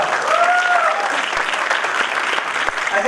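A brief burst of loud applause at a Toastmasters club meeting as a member is called up to the stage, dense clapping close by with a faint voice in the background.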